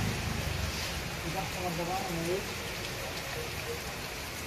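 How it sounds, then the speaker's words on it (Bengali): Heavy rain beats down near the Padma river at Mawa, Bangladesh, during a motorcycle ride stopped for shelter, a steady close hiss of drops on surfaces throughout, with a faint tonal voice-like sound briefly in the middle. "কিন্তু ঝুম বৃষ্টি নেমে গেছে।"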